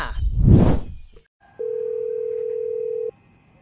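A single steady telephone ringback tone sounds for about a second and a half while a call waits to be answered, following a short noisy burst and a brief silence.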